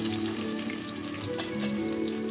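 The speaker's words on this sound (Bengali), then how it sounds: "এই দেখো আমি ছানার বড়াগুলো ভেজে নিচ্ছি, ভেজে একটা একটা করে সব তুলে নেব।" Chhana fritters, cottage cheese balls in a batter of gram flour, salt, turmeric and baking soda, frying in hot oil with a steady, close crackle and sizzle that holds through the whole moment.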